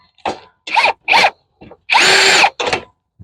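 A power drill drives bolts tight while installing a Liberty hose reel: a series of short, loud whirring bursts separated by pauses, ending with one longer run and a final brief spin, close by with no voices.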